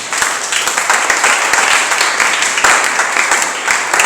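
A church congregation at a French-language prayer gathering breaks into sustained applause, a dense steady wash of many clapping hands filling the room.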